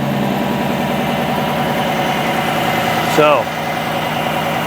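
A 2020 Chevrolet Silverado V8 idling steadily after a cold air intake install, a close, even engine rumble with a brief squealing sweep near the end, and people talking over it.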